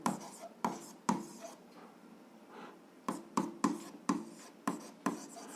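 Pen writing out an algebra exercise on paper, a series of sharp close scratching strokes in bursts with short pauses between, quiet and without talk.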